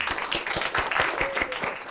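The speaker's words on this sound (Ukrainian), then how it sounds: "давайте поаплодуємо цим двом молодим перспективним комікам" Audience applause at a live roast battle comedy show, dense steady clapping from a crowd filling the whole stretch at moderate, even loudness.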